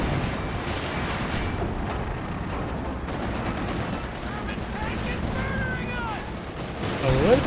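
Battlefield gunfire from the Company of Heroes 2 strategy game, a dense, continuous rumble of shots and distant artillery heard underneath excited commentary from a caster.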